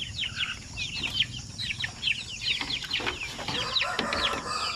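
Two-month-old chickens at a poultry farm give a dense, continuous chorus of chirps and clucks, close and steady with some wing flutters, and no voices.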